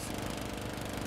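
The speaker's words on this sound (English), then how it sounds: "That's a lawnmower." A ridable lawnmower in a Roblox Brookhaven game, its engine giving a steady buzzing, rattling drone with no breaks, moderately loud.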